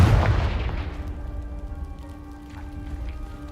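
A Confringo fire spell blasts in Hogwarts Legacy with a loud, close boom that rolls off into a long fading tail and faint ringing debris.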